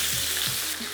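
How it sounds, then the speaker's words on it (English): Marinated prawns fry in hot oil with spring onion whites in a wok, giving a continuous loud, close sizzle. "Now that the spring onion whites are infusing the oil and starting to sizzle away, I'm going to cook my prawns first"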